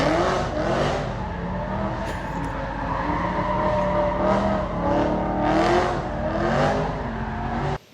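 A BMW E9x M3 engine screams at high revs toward 8,500 RPM, rising and falling in pitch through several loud pulls, with no voices.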